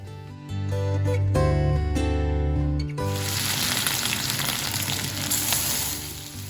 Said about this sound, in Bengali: উঠায় তারপরে সেখানে আমাদের মুরগিটা একটু ভেজে নিতে হবে